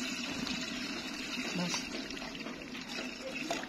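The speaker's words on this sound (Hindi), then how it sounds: "अब इसमें थोड़ा सा ग्रेवी बनाने के लिए थोड़ा सा मैं पानी ऐड करूँगी।" Water poured into a pot of browned beef for a village-style degi korma gravy, a steady close splashing pour running throughout under kitchen background noise.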